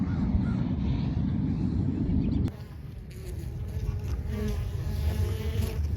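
Bees buzz around small bluet flowers near an apiary, a droning hum that is strong at first and then thinner and intermittent, with a faint voice in the background.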